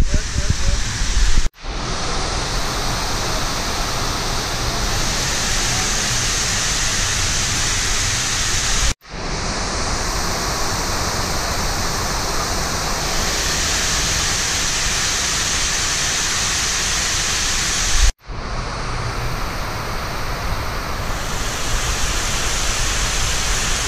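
Loud, steady roar of water cascading down the Houston Water Wall fountain, a large fountain pumping around 11,000 gallons per minute, heard as a continuous dense rushing wash with a few abrupt cuts.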